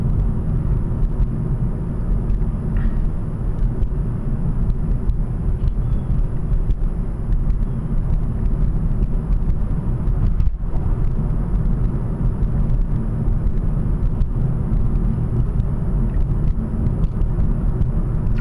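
A car drives along a road at about 57 mph, its low, steady engine and tyre rumble filling the cabin close and continuous with no talking, and one brief thump partway through.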